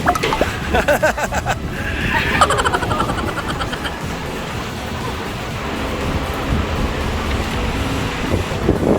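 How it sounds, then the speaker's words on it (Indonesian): Strong wind buffets the microphone outdoors, a continuous loud roar with gusty surges and some passing traffic noise in the background, at a car dealership lot. "Aduh, angin banget ya."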